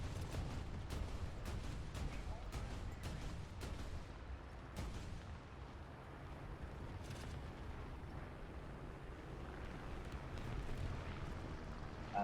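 Bombs burst around a tank in a video game, a rapid series of sharp booms and blasts early on, then a lower rumbling wash of explosions and debris.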